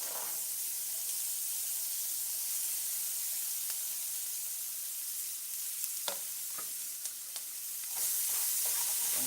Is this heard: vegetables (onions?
yes